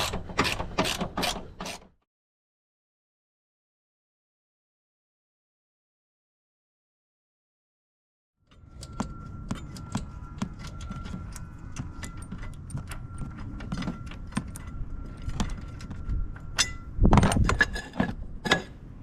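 Two 15mm bolts are removed from a Ford F-10 pedal assembly, with short metallic ratchet clicks, then a silent gap, then sustained mechanical rattling and clinking of tools and parts close by.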